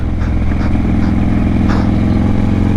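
Motorcycle engine droning steadily at close range on a twisty road ride, with a continuous dense rumble and slight rises in pitch as it revs during a small wheelie.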